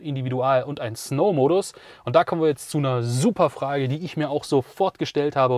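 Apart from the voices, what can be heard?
No everyday noises stand out.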